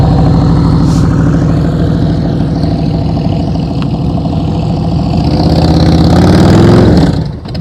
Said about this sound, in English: You heard his throttle go down?